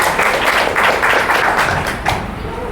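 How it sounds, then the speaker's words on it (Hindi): A church congregation claps together in praise during a sermon, a loud, dense burst of applause that fades toward the end with some murmuring beneath. "तालियां हो जाए प्रभु के लिए"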